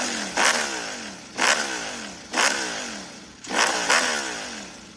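Ducati motorcycle engine revved four times in even succession, each blip rising sharply and then falling away, fairly clear and alone, as played in a guess-the-vehicle-by-sound game.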